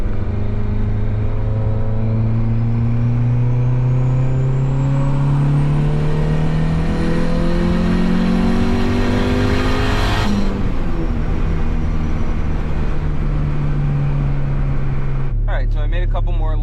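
A turbocharged Honda Civic accelerates hard on a test drive, its engine tone climbing steadily through a long pull before easing off, loud and close from inside the car throughout.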